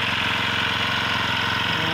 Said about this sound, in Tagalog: yan po yung grass cutter